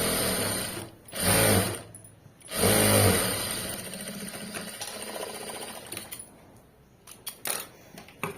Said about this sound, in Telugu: ఇలా నీట్గా ఇలా స్టిచ్ చేసుకుంటూ వెళ్ళిపోతుంది